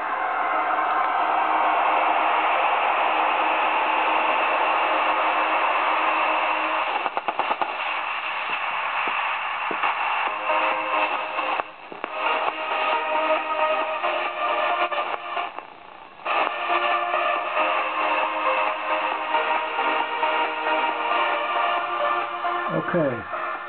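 An AM radio receiving a homemade timer-IC AM transmitter gives off a loud, steady wash of hiss and static with crackles and brief dropouts, ending in a low, wavering tone.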